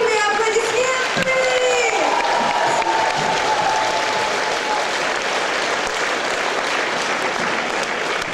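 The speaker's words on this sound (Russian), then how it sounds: "Под ваши бурные аплодисменты!" A concert crowd in Nizhny Novgorod breaks into loud, sustained applause and some cheering as a singer is introduced, with a voice and a fading sung tone at the start.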